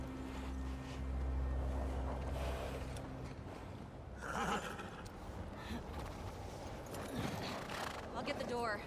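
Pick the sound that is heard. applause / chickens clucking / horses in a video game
horses in a video game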